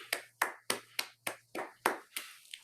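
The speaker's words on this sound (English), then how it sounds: "Let's get a round of applause for all of these winners" Steady claps for award winners at a spring semester awards ceremony, about eight sharp, evenly spaced hand claps that sound close and distinct rather than a dense crowd roar.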